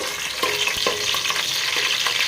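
Green chillies fry in hot oil with a bright, steady sizzle at close range, punctuated by small pops and the scrape of stirring.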